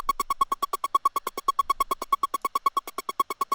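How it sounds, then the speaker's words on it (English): Synth lead in FL Studio with 1/16 sidechain pumping, repeating one note in a fast, even stutter of about eight pulses per second, loud and alone. "So you just add a little sidechain on 1/16, and this is how it sounds."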